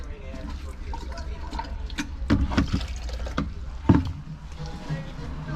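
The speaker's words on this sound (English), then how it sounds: "Yep, water draining. Draining good now." Water trickles and splashes steadily from a freshly cleared air conditioner condensate drain into a bucket, a continuous close liquid wash with a few louder drips and knocks around the middle.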